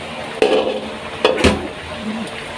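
Stirring food in a frying pan with a utensil, a few distinct scraping clanks against the pan over a soft sizzle, close and fairly loud.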